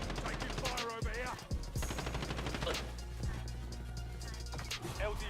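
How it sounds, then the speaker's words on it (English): Bursts of automatic gunfire in a video game battle, rattling fire with sharp individual shots mixed among game sounds and muffled voices across several seconds. "Taking fire over here"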